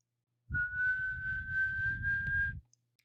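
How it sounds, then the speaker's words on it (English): A single sharp, steady two-finger whistle held for about two seconds, clear and close, with breathy low rumble beneath it. "brings 2 fingers to his mouth and lets out a sharp, calculated whistle."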